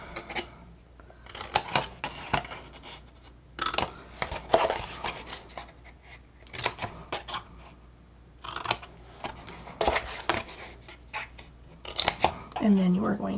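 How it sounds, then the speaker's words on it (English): Scissors snip corners out of folded paper pieces while making a chipboard folio, a run of short crisp cuts recurring in bursts throughout, close by under intermittent talking. "you're going to come in here and you're going to cut these corners out on all three pieces."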